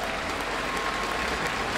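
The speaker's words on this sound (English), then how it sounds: "one more round of applause for Creatives" A large crowd at the Paladins World Championship esports event at HRX 2018 fills the space with continuous, loud applause, a thick unbroken roar of clapping and cheering throughout.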